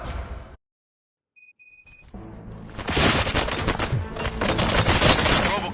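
Rapid gunfire crackles in the Robocop Rogue City game, starting after a brief silence and some beeps, then continuing as loud, dense bursts that build toward the end.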